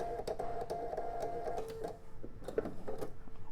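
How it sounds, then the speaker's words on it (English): A sewing machine stitches quilt fabric pieces together with 50-weight thread, giving a close, rapid mechanical whirring with a brief pause partway through and no voices. "Now when we're sewing this pair together"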